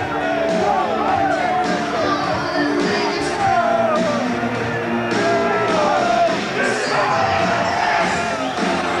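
A packed boxing arena crowd yells and roars for Chris Eubank against Steve Collins, a dense continuous din with shouts rising out of it while a commentator talks over the noise.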